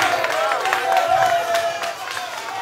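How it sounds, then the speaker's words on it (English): A live studio audience at a cultural exhibit on a Ghanaian morning show keeps up a steady, fairly loud wash of applause and crowd noise, with music and voices mixed in underneath. "you are still applauding"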